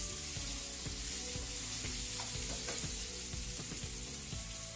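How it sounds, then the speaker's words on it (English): Vegetables fry in a pan with a steady, close sizzle, and a utensil scrapes and stirs at a regular beat. No one speaks. "I'll just start frying the vegetables"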